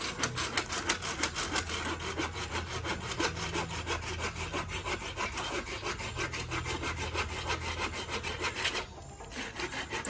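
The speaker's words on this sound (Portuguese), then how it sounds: "é o jeito de ser no serrote" A hand saw rasps back and forth through firewood in fast, steady strokes, close and loud, briefly pausing near the end before resuming.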